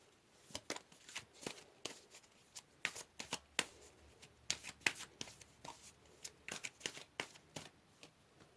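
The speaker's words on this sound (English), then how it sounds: "So let's pull another card." A tarot deck being shuffled and cards drawn, a series of crisp riffling flicks and slaps in irregular bursts, close and quiet, with no talking.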